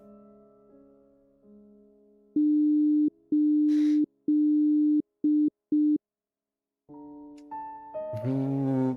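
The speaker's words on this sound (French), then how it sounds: "le bip n'est pas un bip de téléphone. Celui-ci est assez irrégulier." Irregular electronic beeping like a telephone tone, steady pure pitches broken into uneven bursts of varying length, loud and close with no voices, followed by other tonal electronic sounds toward the end.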